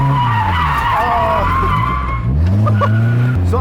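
Tires skid and squeal as an LS1-swapped Nissan S13 drifts after a clutch kick, the engine droning loud and close throughout with a passenger's voice talking over it.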